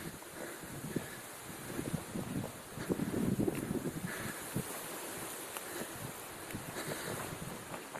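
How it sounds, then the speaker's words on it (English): Gusty wind sweeps across an outdoor homestead, roaring and buffeting the microphone in uneven surges that swell midway, with rustling underneath and no clear voices. "Might have a little bit of problems hearing because of the wind."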